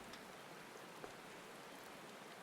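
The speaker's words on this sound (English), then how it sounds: "This doesn't really stop the rain, does it?" Steady rain falls in Final Fantasy XIV, a soft, even hiss of drops on surfaces with one faint tap standing out, continuous and fairly quiet with no voices.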